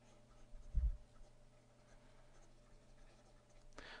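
Math work being erased from a board, a scrubbing rub with a firmer thump near the start, then quiet faint strokes and a brief swipe at the end.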